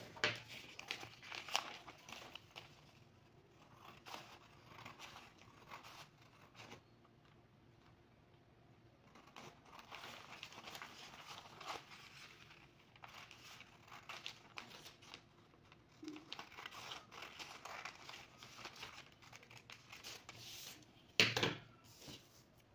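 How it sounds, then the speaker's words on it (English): Scissors cut a paper dress pattern for a child's off-shoulder dress, giving soft, continuous rustling and crinkling of paper with occasional sharper snips, faint and close. "You're going to measure 2 inches and you're going to cut it."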